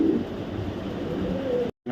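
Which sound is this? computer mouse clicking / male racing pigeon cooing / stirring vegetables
male racing pigeon cooing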